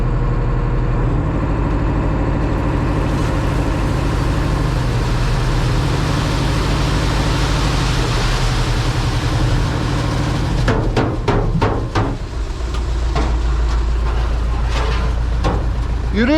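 A water well drilling rig's engine runs steadily and loud at a drilling site, a deep continuous rumble with metallic clanks and knocks breaking in near the end.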